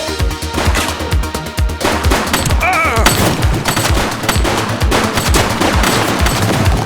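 Dense, continuous gunfire from The Precinct video game, rapid automatic bursts and single shots cracking loudly throughout with no pause, a brief tonal in-game effect near the middle.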